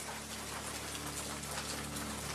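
Steady, dense rain during the rainy season in Madagascar, an even wash of drops pattering on surfaces with no other sounds.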